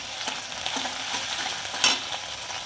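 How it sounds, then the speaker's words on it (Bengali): Chopped onion sizzles in hot oil in a pan alongside half-fried potatoes, a steady bright hiss broken by a few stirring scrapes. "এর মধ্যে আমি পেঁয়াজ কুচিটা দিয়ে দেবো।"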